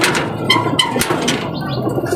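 Pigeons coo in a short close burst of soft repeated calls, several overlapping throaty notes amid light background chirps.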